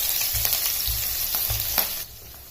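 Green chillies fry in hot oil with mustard seeds and cumin, hissing steadily under repeated low thumps and scrapes of a stirring spatula. The sizzle is close and continuous, then drops off abruptly near the end.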